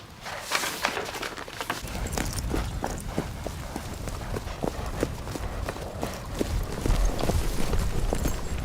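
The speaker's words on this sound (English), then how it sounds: "That's why I told you to bring Kathy's horse" Horse hooves clip-clop steadily on a path in a dramatized Wuthering Heights scene, a regular, moderately close rhythm over outdoor ambience with faint birds.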